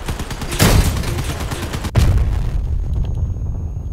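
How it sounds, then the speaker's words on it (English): A combat vehicle self-destructing in the game Crossout, a loud close blast with a rolling rumble, followed by a second sharp explosion amid ongoing battle noise that fades into a lower hum. "Let's self-destruct on these boys."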